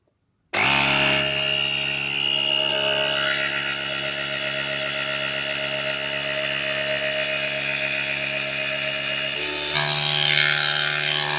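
An Auxito jump box's built-in tire inflator runs continuously for about eleven seconds, a loud, steady buzzing compressor drone with a slight shift in tone near the end, airing up a flat tire on a classic car.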